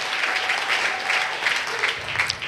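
Church congregation applauding to celebrate Jesus, a dense steady wash of clapping from many hands, fairly loud and sustained throughout.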